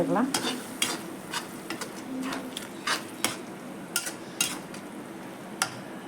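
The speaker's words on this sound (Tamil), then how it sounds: "அதையும் போட்டு நல்லா வதக்கி" Tomatoes sizzle and crackle steadily in a hot pan, with a spoon clicking and scraping against the metal every few seconds as it stirs.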